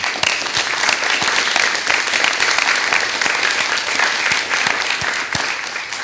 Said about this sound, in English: And maybe a round of applause for all of you.